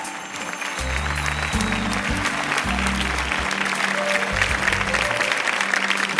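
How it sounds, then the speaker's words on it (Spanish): At an awards ceremony for a song contest, an audience claps loudly and continuously while low music chords play underneath the dense applause. "Muchas gracias por ese aplauso, ese interaplauso"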